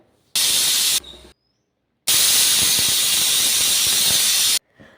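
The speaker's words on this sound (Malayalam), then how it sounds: "അപ്പോൾ ഞാനതാ കുക്കറിൽ വെച്ച് കൊടുത്തിട്ടുണ്ട്" A pressure cooker cooking chickpeas vents loud, broadband steam: a short hissing burst, a brief pause, then a long steady rush of hiss lasting a few seconds before cutting off.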